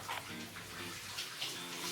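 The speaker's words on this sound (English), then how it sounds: "let's start in the shower." Shower water running steadily in a bathroom, a close, even hiss of spray that continues without pause and with no voices over it.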